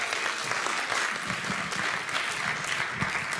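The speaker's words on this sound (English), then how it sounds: "You were supposed to give a rousing round of applause after he said that" Audience at a tech career talk breaks into steady applause, many hands clapping in a dense, even wash that holds at moderate level throughout with no voices over it.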